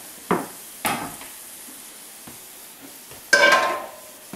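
A frying pan is pulled out and set down in a kitchen for cooking shrimp: several sharp metallic clanks and knocks spaced apart, with a louder rattling clatter near the end, over a quiet background.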